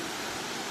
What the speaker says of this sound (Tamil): பாருங்க சூப்பராக தண்ணி வரும்.